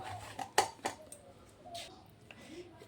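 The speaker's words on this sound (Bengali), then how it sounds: "গ্রেটার দিয়ে একটু গ্রেট করে নিচ্ছি, তাহলে মিহি হবে।" Jaggery being grated with a metal grater for a Bengali hath ombol recipe, a few faint, close metallic scrapes and clinks over quiet room noise.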